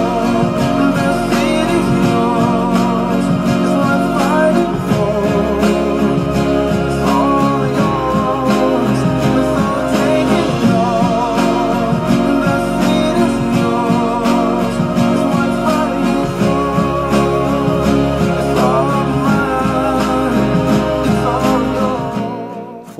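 A guitar plays the chorus of a song from the film Annie, strummed chords alongside a melody line, steady and full for about twenty seconds with no talking.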